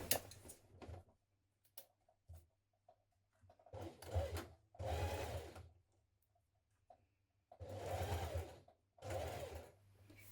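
A sewing machine bastes across the tops of dungaree straps in several short runs of whirring stitching separated by pauses and small clicks, close and fairly quiet.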